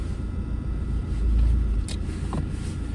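A car drives along a road with a low, steady rumble from inside the cabin, swelling briefly in the middle, plus a couple of faint high squeaks or clicks near the end and no talking.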